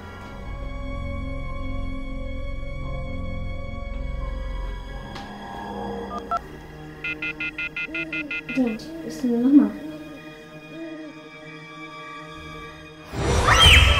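A mobile phone is dialed: a quick run of evenly spaced keypad tones, then a brief warbling ring signal, heard over a low background hum before a louder burst of sound at the end.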